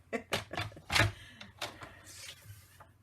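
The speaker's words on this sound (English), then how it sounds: "So let me get a piece out here. And I will cut one real quick." Cardstock being cut for a handmade card: a short run of crisp snipping and sliding cuts close to the mic, quiet, with no talk.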